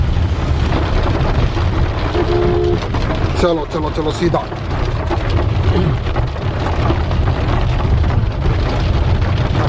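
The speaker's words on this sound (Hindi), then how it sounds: "बहुत तेज बारिश है," Heavy rain pours during a night drive through Rajaji National Park, a steady roaring wash under the rumble of the vehicle. Someone speaks briefly over the noise.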